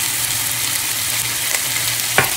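Onion fries in olive oil with a loud, dense, close-up sizzle that stays steady throughout, with a single brief scrape near the end.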